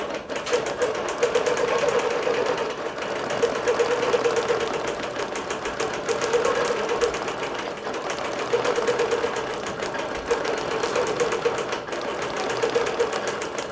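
A computerized quilting machine stitches a quilt, a steady fast mechanical whirring and rapid needle ticking that runs nonstop and fairly loud, with gentle rises and falls in pace.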